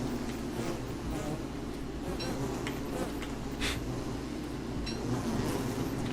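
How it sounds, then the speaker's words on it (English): Bees buzz continuously in Don't Starve Together, a dense droning hum that holds steady throughout, with a few faint clicks and game sounds over it. "You're not allergic to bees or anything, are you?"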